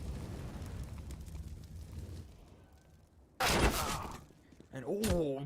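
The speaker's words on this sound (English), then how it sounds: "Molotov's being deployed." In a Counter-Strike match, a Molotov is deployed with a sudden loud whooshing burst of flame, followed by a further crackling flare after a quieter stretch of game noise.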